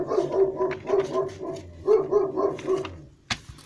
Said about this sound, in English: That is my dog, so just please ignore him.